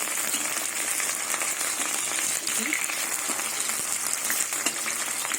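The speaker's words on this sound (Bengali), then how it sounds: "মোচার ফুল একদিকে ভাজা হয়ে গেছে" Soft, steady sizzle of banana flowers frying in hot oil, a constant crackling hiss with occasional small pops, close by.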